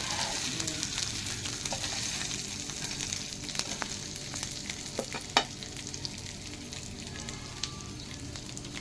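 Fish sizzles steadily in a shallow-oil pan for a low-oil crispy fish fry, with a continuous hiss and a few sharp clicks and scrapes as the pieces are flipped over, close and fairly quiet.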